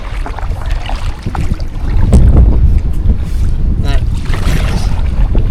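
Steady wind roars and buffets across open water while a handmade wood-canvas canoe is paddled, a constant low rumble that swells louder midway, with no clear voices.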